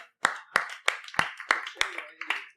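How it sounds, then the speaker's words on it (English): Crisp, evenly spaced claps ring out for a participant at a marketing seminar, about seven sharp hand claps in a steady rhythm, close by in a quiet room. "Give him a round of applause."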